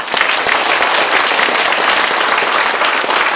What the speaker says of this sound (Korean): 이분들과 또 출마하시는 후보자님들한테 뜨거운 박수 한번 부탁드리겠습니다